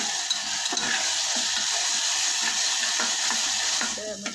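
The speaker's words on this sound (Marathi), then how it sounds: "तर वाटणही आपण ह्यामध्ये परतून घ्यायचं।" Ground masala paste sautéing in a pan, a steady close sizzle with soft scraping strokes and small clicks of a spatula throughout.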